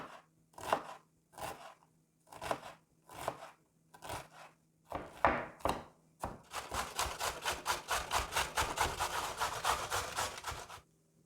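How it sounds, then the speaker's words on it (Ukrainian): A knife chops onion on a board, first in several separate bursts, then in a fast, steady run of dicing strokes close by. "Нарізаю цибулю кубиком"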